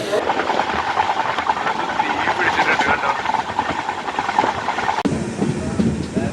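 A loud, steady rushing hiss and rumble of a train at Kannur railway station, continuous throughout, with a sudden shift in tone near the end.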